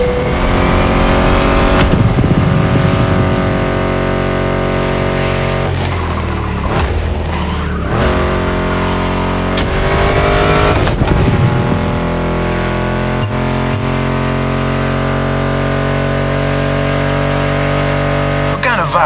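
A Ford Mustang GT muscle car in The Crew Motorfest racing game, its engine revving and roaring loudly through gear changes, with tire squeal and skids, a steady near drone over music-like tones.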